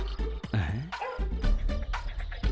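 Neighbouring dogs bark and yip at night in a dubbed Telugu comedy film scene, a few short, close barks and a whining cry mixed with dialogue and other movement.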